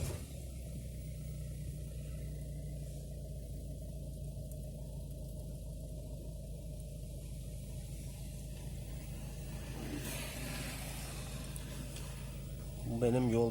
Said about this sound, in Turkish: Çalıştıralım arabayı.